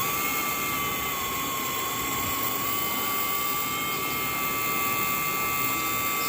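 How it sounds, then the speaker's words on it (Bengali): A small electric motor under repair runs noisily, a continuous loud whine with steady high-pitched tones and a rough buzzing underneath, unbroken throughout. "স্পিড আছে, কিন্তু মোটরটা একটু নয়েজি আছে, এর জন্য মোটরটার আওয়াজ হচ্ছে।"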